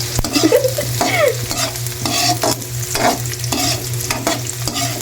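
Ginger, garlic and other ingredients fry in a pan while being stirred, with a steady sizzle broken by scraping strokes of a spoon at an even pace, close and loud, with no voices.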